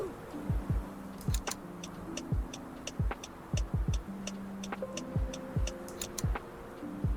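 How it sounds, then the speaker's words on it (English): A steady, rhythmic tick-tock of a car's turn indicator clicking repeatedly in the Roblox game Greenville, with a low engine drone and occasional tonal chimes underneath. "they added new indicator sounds"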